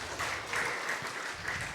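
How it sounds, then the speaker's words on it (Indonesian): A congregation claps during an online church worship service, a steady dense patter of many hands throughout the short stretch, fairly soft and even with no voices over it. "berikan tepuk tangan yang meriah buat Tuhan kita"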